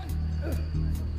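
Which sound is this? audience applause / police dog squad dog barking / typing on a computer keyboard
police dog squad dog barking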